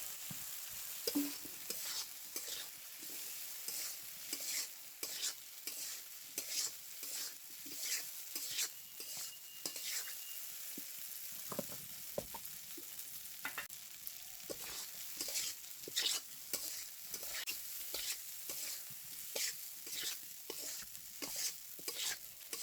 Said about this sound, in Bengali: মশলা কষাই নেড়ে গেছে, জল দিয়ে দিলাম।